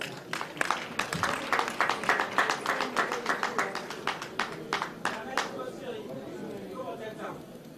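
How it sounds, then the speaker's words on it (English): An audience applauding an outgoing president at a formal awards evening: a burst of dense clapping from many hands that thins into scattered claps and fades out over several seconds. "Can I clap now?"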